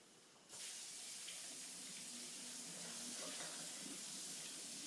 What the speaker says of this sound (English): I'm going to throw them into the vigorously boiling water.